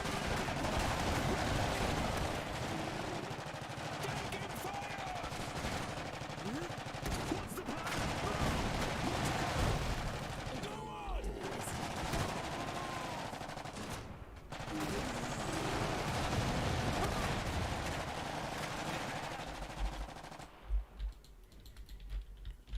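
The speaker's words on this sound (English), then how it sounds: "Okay, deploy the machine gun" A machine gun team fires in the video game Iron Harvest, with sustained rapid bursts of automatic fire and scattered shots running throughout, dense and loud, before the firing cuts off near the end.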